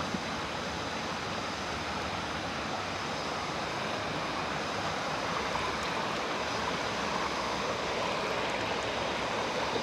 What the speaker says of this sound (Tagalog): May maliit na ilog na malinaw, malinis.